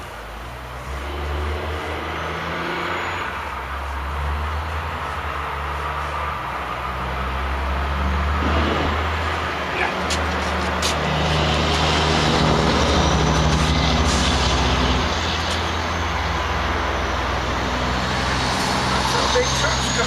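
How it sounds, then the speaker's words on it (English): Big trucks pass on a road in a continuous roadway rumble, the loud drone swelling around the middle of the stretch as heavy vehicles go by nearby, with someone talking over parts of it. "Big trucks coming through here."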